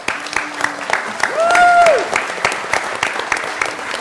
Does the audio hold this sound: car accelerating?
no